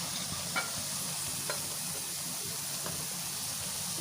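Kaddu kofta dumplings sizzle and fry in hot oil in a pan, a steady crackling hiss with a few faint clinks, heard alone without talk.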